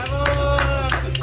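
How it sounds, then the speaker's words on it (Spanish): Several people clap in a few sharp bursts after a boy finishes a one-kilometre run, with a voice and a steady tone beneath the claps. "¡Aplausos, aplausos!"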